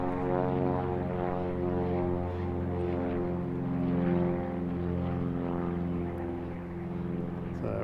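A Cessna 172 light aircraft takes off at Cairns Airport. Its propeller engine drones steadily at moderate distance, with a humming tone that swells slightly midway, heard alone.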